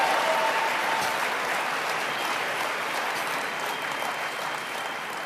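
A crowd at a motivational talk applauds in a sustained, even wash of clapping that holds loud and steady before easing slightly near the end.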